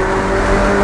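Ferrari engine pulling hard on a track, a loud, close, continuous roar that swells slightly as power is added over a brief moment.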